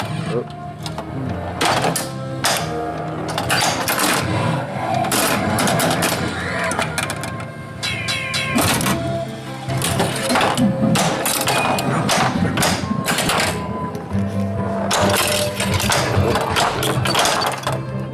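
Gottlieb Solar Ride pinball machine in play, with thumps, clunks and mechanical rattles from flippers and the ball, plus busy electronic tones, going on steadily for the whole stretch.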